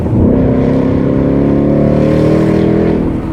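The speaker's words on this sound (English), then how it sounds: "I'm talking about a nice open throat exhaust note." A 2024 Ford Mustang GT engine holds a loud, deep, throaty exhaust note, a sustained close-up rumble that rises slightly in pitch before easing off, heard alone.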